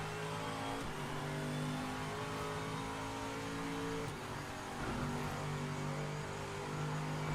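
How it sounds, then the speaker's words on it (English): A Corvette in the Project Motor Racing game revs up through the gears, its engine note climbing and dropping back at each shift in a steady, close, continuous run. "It's a lot of fun to shift through the gears and time the Corvette."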